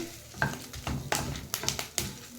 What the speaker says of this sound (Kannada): ಇದು ಸ್ವಲ್ಪ ಹೊತ್ತು ಎಳ್ಳು ಚಟಪಟ ಆಗೋವರೆಗೂ ಫ್ರೈ ಮಾಡಿ